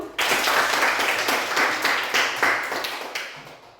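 Children in a classroom clap their hands together in a short burst of several loosely synchronized claps, close and fairly loud, fading toward the end.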